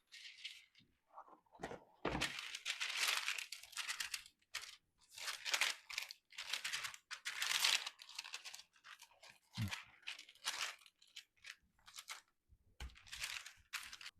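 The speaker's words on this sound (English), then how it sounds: "I'm just wetting this, help the parchment paper stick." Parchment paper being wetted and crinkled by hand while preparing dough in a kitchen, heard as close, irregular crackling and rustling bursts with brief pauses and no talk.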